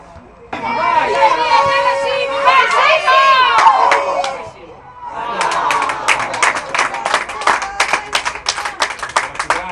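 Italian football ultras of Savignanese in the stands, a dense crowd chanting and shouting together, then rhythmic group clapping in a steady beat, loud and close, with voices throughout.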